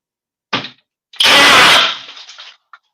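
Flex hammer drill running in hammer mode, a short blip followed by a loud, close one-second burst of rapid hammering whir that winds down, then a brief click, no talk.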